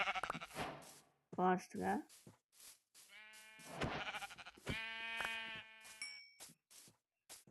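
Several blocky Minecraft goats bleat in quick succession, their wavering calls loud and close, interleaved with someone talking excitedly over the game sounds.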